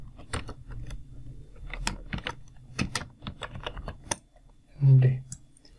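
Fingers typing on a computer keyboard, a quick irregular run of close, crisp key clicks, with a brief voice cutting in near the end.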